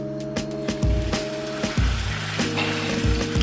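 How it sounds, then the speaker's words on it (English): Steak searing in grapeseed oil in a hot pan, a steady close sizzle with crackling pops, under a layer of sustained tonal background sound. "Just adding a little bit to the pan here to get a nice little sear."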